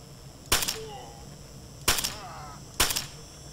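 Suppressed gunfire in STALKER: Shadow of Chernobyl, three sharp muffled shots spaced apart with short faint tails, alone against a quiet background.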